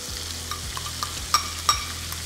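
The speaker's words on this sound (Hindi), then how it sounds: "अब इन्हें बढ़िया से गोल्डन ब्राउन होने तक भूनना है" Chopped onions fry in a pan seasoned with chili powder and black cardamom, giving a constant close sizzle with a few light stirring clicks and taps.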